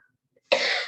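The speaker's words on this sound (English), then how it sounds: "I'm going to be coughing here." A single sharp cough from a presenter at a family training session, a sudden loud burst after near silence that rings on briefly.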